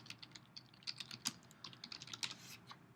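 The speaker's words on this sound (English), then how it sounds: "So you type in Plainfield Plumber, if I spell it right." Someone types a search query on a computer keyboard, a quick run of light, irregular key clicks, quiet and close with no talking.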